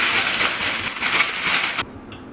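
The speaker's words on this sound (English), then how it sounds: "So then you also want to line it with parchment paper" Crisp, steady crinkling and rustling of parchment paper being pressed and smoothed into a cake pan, close and fairly loud, stopping abruptly near the end.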